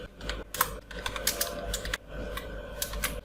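Typing on a computer keyboard while building a bio data document in MS Word: rapid, irregular clicks of keys pressed close by, with a few louder key strikes.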